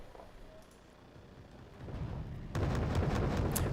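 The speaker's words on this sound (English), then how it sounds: "So I basically mark my artillery strike" Video game artillery strike explosions: a low rumbling that builds, then a loud heavy blast with rolling crackle that continues to the end.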